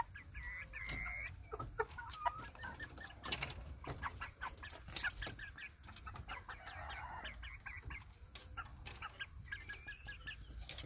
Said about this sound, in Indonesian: Ini ayam samu Jepang jantan.